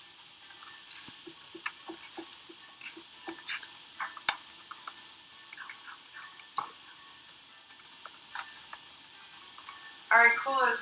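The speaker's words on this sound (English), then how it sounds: "As we're typing" Students and a teacher tap away at computer keyboards in a classroom during a Nearpod lesson, with scattered soft key clicks and brief bursts of rapid typing under faint background voices.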